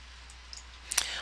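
A single computer mouse click, faint and close, lands near the end of a short stretch of quiet room tone.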